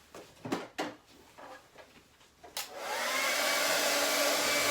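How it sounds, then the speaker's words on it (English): A hair dryer switches on and blows steadily across a fluid art Dutch pour of wet paint, a loud, even whoosh that follows a few light knocks and handling sounds. "So let's see what happens when I blow this one. I'll get my hair dryer."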